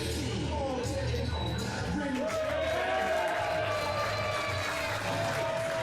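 The crowd at the Best of the West wrestling show in a Fresno studio keeps up steady cheering and applause, a sustained roar of voices beneath an announcer's commentary.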